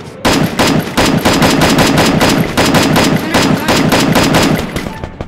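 Rapid automatic gunfire from the video game Free Fire rattles loud and close in steady bursts of quick shots for about five seconds, with no speech over it.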